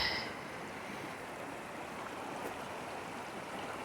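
Shadow Creek in the Ansel Adams Wilderness flowing high near a submerged bridge, a steady broadband rushing wash of water, constant and fairly soft with no voices.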